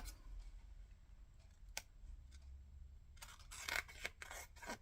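Scissors trimming paper for a Christmas flip-flop mini album, a papercraft project: a few faint, quick snips cluster near the end after a mostly quiet stretch, with one earlier isolated cut.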